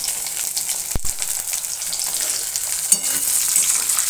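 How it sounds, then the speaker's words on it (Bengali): Chopped tomato fries in a pan over a low gas flame with a constant close sizzle, one sharp knock near the start and a soft clink later, without talk. "এখন আমি এর মধ্যে দিয়ে দেবো, গ্যাসটা লো ফ্লেমে রেখে, কিছুটা পরিমাণে টমেটো কুচি।"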